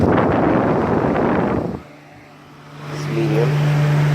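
A 2010 Holmes Blizzard stand fan runs at maximum speed with a loud, close rush of blowing air that drops off sharply, then builds back to a steady whir with a faint tonal hum.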